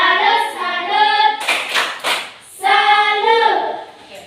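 Group 'tepuk salut' applause in a classroom coaching session: a short burst of several rhythmic claps between loud chanting voices.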